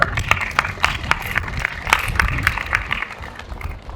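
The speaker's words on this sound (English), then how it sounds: "Give me a round of applause." A small audience at a live event claps in a loose, uneven burst of applause, with individual hand claps standing out close by.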